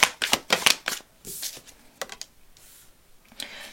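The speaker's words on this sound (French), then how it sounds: "je voulais aller tirer quelques cartes" Tarot cards are drawn and shuffled close by, giving a run of quick crisp papery slaps and flicks in the first couple of seconds, followed by sparser, softer card handling that fades toward the end.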